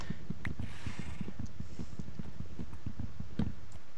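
Steady clip-clop of horse hooves in Minecraft's Age of Engineering modpack, an even walking rhythm of soft, close thuds repeating alone for four seconds.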